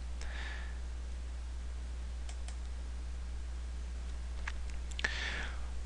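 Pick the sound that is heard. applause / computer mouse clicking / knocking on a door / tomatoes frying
computer mouse clicking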